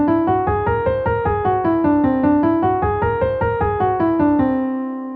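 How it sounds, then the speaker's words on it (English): Whole tone scale starting on C played rapidly up and down on a keyboard instrument, a quick run of about twenty-five even notes rising and falling, ending on a sustained fading tone with no voices. "If you were to play the scale up and down really fast, it sounds like this."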